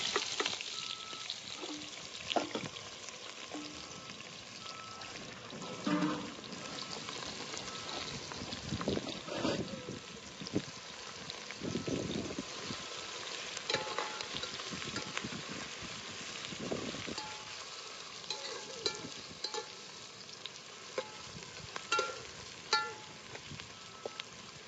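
Onion frying in a pan for mutton pulao, a soft continuous sizzle with occasional stirring scrapes and knocks, close by with no speech over it.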